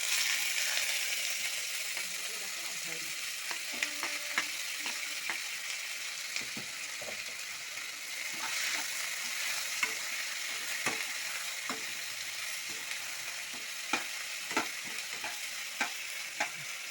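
Onions sizzle steadily in hot oil with cumin seeds, a broad continuous hiss broken by scattered sharp pops and occasional stirring clicks throughout.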